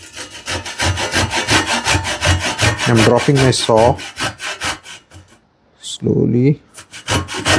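A hand saw cuts wood for a DIY wooden rebate plane, with a steady rhythmic rasp of quick strokes, close and loud, pausing briefly before resuming, a voice speaking a word during it.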